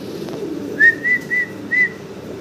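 A male blue barless Lahori pigeon calls in a short run of four whistled coos, each brief and fairly clear, standing out over a low steady background hum.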